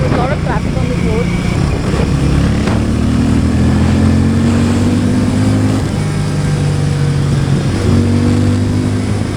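A Harley-Davidson X440 motorcycle accelerates through traffic, its engine note rising in a steady drone with climbing harmonics and a gear change partway through, up close under constant road and wind noise.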